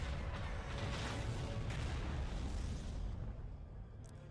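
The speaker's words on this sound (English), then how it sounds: "look at all the explosions" Explosions in the Star Wars Knights of the Old Republic 2 video game, a dense sustained roar of booming blasts that fades out toward the end, loud and without speech.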